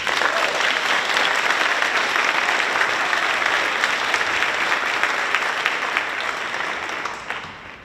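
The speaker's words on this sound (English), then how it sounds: "Another round of applause for Ethan." Sustained applause from an audience at a high school National Honor Society induction ceremony, a dense, even wash of clapping that thins and fades in the final second.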